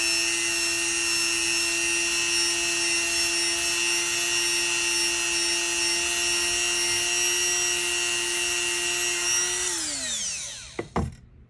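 A Dremel rotary tool spins a buffing wheel against a clay-covered pen, giving a steady high-pitched motor whine that holds for about ten seconds before winding down, with a few knocks at the end.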